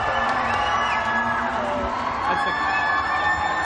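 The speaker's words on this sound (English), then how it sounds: "Big hands of applause!" A crowd at a live award show cheers and whoops in a steady, loud wash of noise, with scattered shouts rising over the din throughout.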